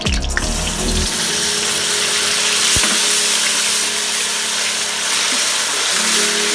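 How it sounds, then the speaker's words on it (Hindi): Water poured into a hot pan of cardamom-scented ghee while making lauki halwa, a steady watery rush and sizzle running continuously at close range with no talking. "और मैं थोड़ा सा पानी डाल दूँगी।"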